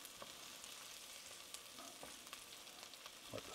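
Egg fried rice with carrots and green onion sizzles steadily in a pan, a dense crackling hiss broken by small ticks and clinks of stirring, heard alone without speech.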